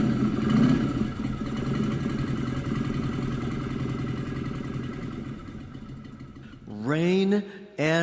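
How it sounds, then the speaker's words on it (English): A motorcycle engine drones at a steady, loud pitch for several seconds, then cuts out and gives way to a short, sharply rising whine near the end. "motorcycle"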